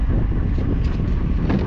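Strong wind buffets the microphone on an open fishing boat during a sea bass casting trip, a steady loud rumbling roar with no pauses and no voices.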